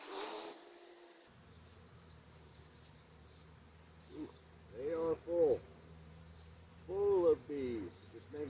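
A steady low buzz of many honeybees in a breeder hive during an inspection hums throughout, with a few faint voices speaking briefly over it.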